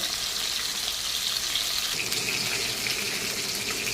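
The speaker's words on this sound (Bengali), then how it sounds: "মাছের মাথাটা কিন্তু আমি একটু কড়া করেই ভাজবো, হালকা ভাজা দেবো না" A fish head frying crisp in hot oil, giving a continuous close hiss and sizzle, steady and unbroken, with no talking.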